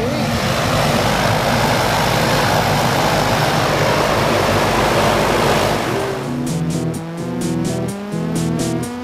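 A propeller airplane engine roars loudly and steadily from inside the aircraft before a tandem skydive, then its drone settles into a rhythmic, pulsing hum with a lower, throbbing tone.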